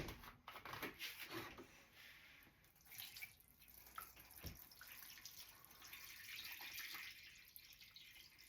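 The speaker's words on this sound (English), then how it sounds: "I will put some water first." Water splashes and pours into a metal pot for boiling corn, a running, trickling stream that continues steadily, close by and fairly quiet.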